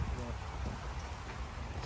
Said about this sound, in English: Proper rain now.